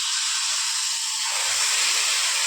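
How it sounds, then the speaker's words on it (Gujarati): Mustard seeds hit hot oil in a pan for tempering and give a loud, steady, close hiss of sizzling with no pauses and no talk. "આપણે તેલ ગરમ થઈ ગયું છે એટલે રાઈ નાખી દઈશું"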